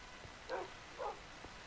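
A dog in the game Minecraft gives two short, faint barks about half a second apart against a quiet background, with no talking.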